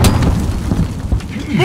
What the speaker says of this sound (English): Need cover! Grenade!